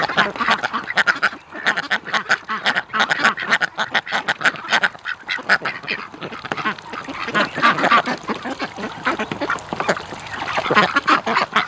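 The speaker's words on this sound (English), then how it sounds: "Lots of duck sex." Ducks of a backyard flock at a lake quack loudly and repeatedly while mating, with dense overlapping calls and a few honking goose-like notes running steadily without any talk.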